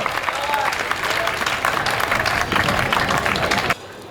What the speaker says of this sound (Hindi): आपकी अल्हड़ तालियां एक बार अर्जुन की अगवानी करें